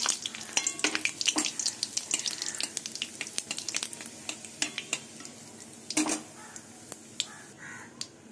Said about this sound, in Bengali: এবার ফোড়নে দিয়ে দেবো জিরে, তেজপাতা, একটা শুকনো লঙ্কা।